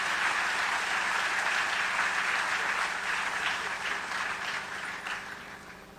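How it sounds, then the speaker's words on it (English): Sustained applause from a large audience at a Georgia legislative forecast event, steady broadband clapping that gradually tapers off toward the end with no voices over it. "Please give me one more round of applause for our select Cobb investors."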